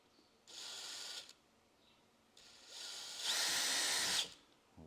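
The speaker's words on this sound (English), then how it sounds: "I think I'll go ahead and get the first screw in" Power drill driving a screw into a Jeep Gladiator mud flap, three separate bursts of whirring with the last one longest and loudest, close up in otherwise quiet surroundings.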